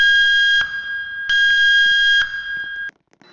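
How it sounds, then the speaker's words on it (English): An electronic alarm sounds in the Roblox game Camping, a loud steady high-pitched tone in two long bursts with a short gap, then cuts off into near silence. "you wait for the night and an alarm goes off."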